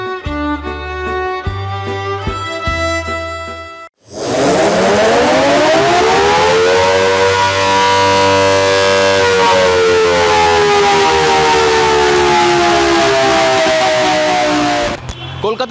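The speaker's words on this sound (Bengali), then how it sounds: "কলকাতা পুলিশের সবকটি থানায় যে এয়ার রেড সাইরেন থাকতো" An old Kolkata police station air raid siren winds up after a burst of other loud tones and then holds a loud, sustained, slowly wavering wail that runs on to the end.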